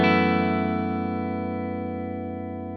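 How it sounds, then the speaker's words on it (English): A single dry electric guitar chord, played with no reverb pedal, rings out and slowly decays without any reverb tail, heard alone and close. "This is what my sound is without any reverb."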